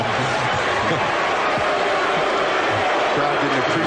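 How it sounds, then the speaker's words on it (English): An NBA Finals arena crowd boos in a sustained, loud roar while commentators talk over it. "What do you think those boos are for?"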